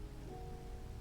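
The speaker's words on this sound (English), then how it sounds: "it is literally only raining on that side of the woods." Steady rain pours down in a Minecraft woodland, a dense continuous hiss with no talking over it.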